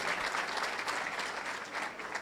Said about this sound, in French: qu'on aimerait bien aussi qu'on applaudisse parce qu'on ne nous a pas applaudi